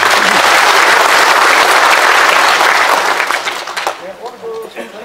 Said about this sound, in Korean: 이분들에게 박수 한번 보내주시면 고맙겠습니다